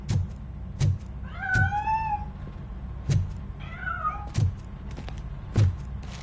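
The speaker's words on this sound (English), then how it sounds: "That cat must be hiding inside." A cat meows twice with drawn-out, wavering cries in the video game RoboCop: Rogue City, over a steady background hum and a recurring low thump that repeats roughly every second and a half.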